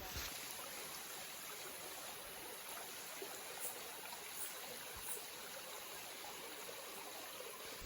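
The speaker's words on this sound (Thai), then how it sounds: "ตอนนี้เราก็มาถึงแม่น้ำมาที่เรียบร้อยแล้วนะ" A river flows steadily beside a forest campsite in the wild, its continuous hiss and gentle gurgle soft and even, with a few faint splashes rising briefly out of the rushing water.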